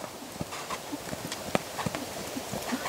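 Hooves of a six-year-old purebred Lusitano horse clip-clop in a steady rhythm, moderately close, with a busy background and no talk.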